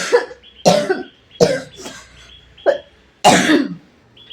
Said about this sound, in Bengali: কি যে জন্মের খুশুর খুশুর কাশি উঠলো